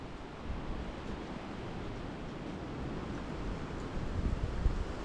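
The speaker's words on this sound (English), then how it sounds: "It's so windy, I think it's knocking branches down." Strong wind roars steadily with broadband rushing noise, swelling slightly toward the end, with no voices.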